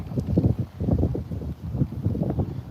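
Strong wind buffets the microphone in continuous low, rumbling gusts beside a backyard fishing bank, loud and close, with no voices.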